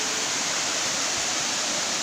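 Lambingan Falls pours into a small pool below, a close, steady broadband rush of falling water with no break, fairly loud, and no voices.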